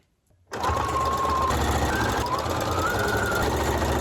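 A sewing machine stitches white fabric for a costume jumpsuit, starting abruptly after a brief quiet moment and then running steadily and loudly, a continuous mechanical whir with some faint higher tones over it.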